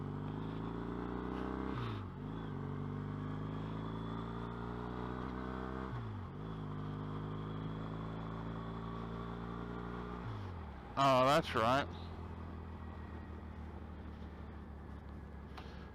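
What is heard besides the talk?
busy road traffic with trucks, heard from a motorcycle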